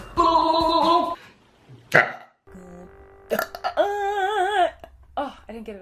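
Several loud, drawn-out burps come in a row with short gaps between them, voiced and close up, one of them ending in a sharp hiccup-like catch.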